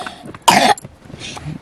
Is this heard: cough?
yes